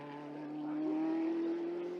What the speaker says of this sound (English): Around Luffield, accelerates to the flag, and Ramos takes 9th.